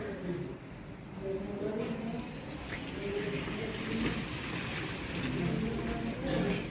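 Steady monsoon rain falls outdoors around a green campus of staff quarters and hostels in Odisha, a continuous soft hiss of drops with people talking over it.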